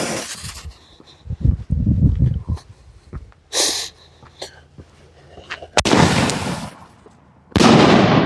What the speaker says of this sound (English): We do a lot of canister shells, boomers, and I can tell you these are loud.